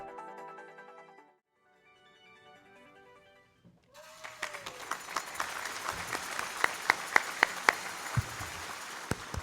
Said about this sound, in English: as long as you're applauding, keep applauding for Transnet and Pacific Metallurgy Incorporated